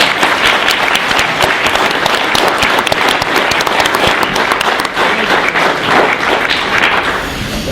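Loud, dense audience applause at a congressional briefing on youth incarceration, many hands clapping steadily for nearly eight seconds with no talk over it.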